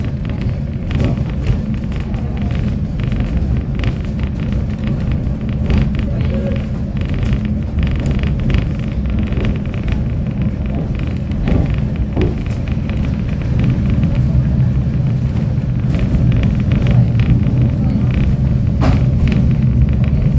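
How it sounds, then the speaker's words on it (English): A heritage train ride at the Tasmania Transport Museum in Hobart, heard from on board as a steady, loud low rumble with occasional creaks and thumps from the carriage, continuous for about twenty seconds. "So it's not a very long train ride, but still,"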